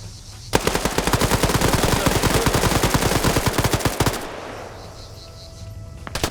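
Sustained automatic rifle fire in a military shooter game, a long rapid burst of close, loud shots running several seconds before stopping, followed by a quieter tail and a couple of distant pops.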